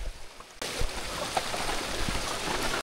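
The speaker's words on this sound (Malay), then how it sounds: "Nampaknya air agak deras." Fast, rushing water of a mountain stream near waterfall steps on the Annapurna Base Camp trek, a steady broadband roar that starts abruptly and holds loud and close.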